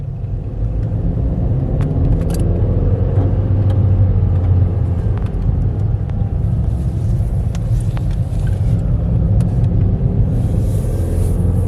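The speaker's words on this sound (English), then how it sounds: "let me just shut off the engine. Start again. I will do a little drive" A car engine runs steadily as the vehicle drives, a continuous low rumble with mild road noise and no speech throughout.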